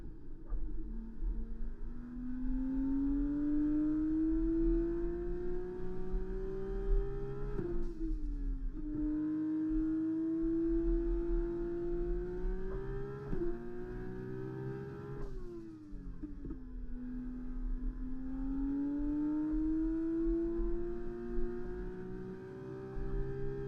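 An F1 race car on the Monza circuit in the F1 2024 video game, its engine droning steadily and rising in pitch through each gear before dropping briefly at two upshifts, with no voices over it.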